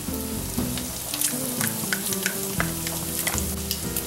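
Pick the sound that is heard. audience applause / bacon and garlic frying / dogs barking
bacon and garlic frying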